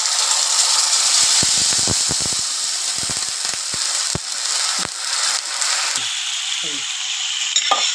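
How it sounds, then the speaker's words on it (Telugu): Rice frying in a pan just after water is poured in, for a spicy pongal with spinach and fenugreek leaves: a loud, steady hiss of sizzling with scattered sharp pops and scraping clicks from stirring, close up and with no talk. "ఇది ఫ్రై చేసుకుంటాను అండి"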